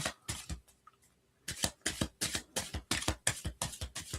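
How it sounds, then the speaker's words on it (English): Oracle cards riffle and slap together in a steady run of crisp bursts, close and clear, after a brief pause near the start. "I'm going to shuffle these up."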